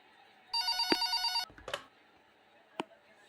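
Telephone bell rings in a burst of rapid repeated trills in the horror game Pikabuu, set in a night-shift nurse scenario, followed by a couple of short clunks and a sharp click in a quiet room.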